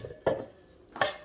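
Food dropped into a bowl in a kitchen where pork namtok is being prepared, producing two short clinking knocks of dish and utensil about three-quarters of a second apart, close and fairly clear against quiet background.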